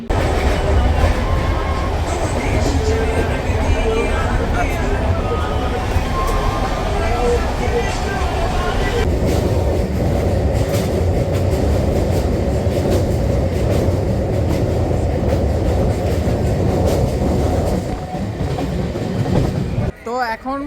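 A Sealdah–Bardhaman local train runs on the rails, with a loud, steady rumble and a rhythmic clatter of wheels over the track that goes on throughout, briefly dipping near the end.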